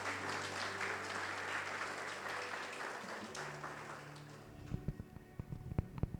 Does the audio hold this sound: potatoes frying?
no